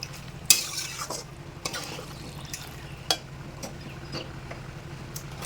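Chicken curry being stirred in a pan over a low gas flame, with spoon scrapes and clinks at irregular intervals over a soft steady simmer, close and fairly quiet.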